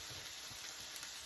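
Onions fry in a stainless steel nonstick pan as butter chicken cooks, a faint, even hiss of sizzling that holds steady throughout with soft stirring underneath and no voices.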